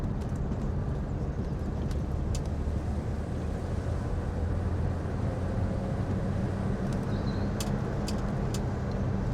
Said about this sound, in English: So all I'm doing is getting the engine up to temperature, which is nearly there.